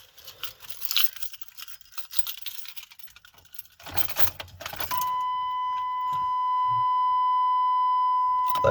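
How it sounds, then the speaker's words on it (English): Truck keys for a 1999 Chevrolet Tahoe jangle and clink in bursts as they are grabbed, followed by a steady electronic tone like a vehicle warning buzzer that continues to the end. "Let me go and grab my keys."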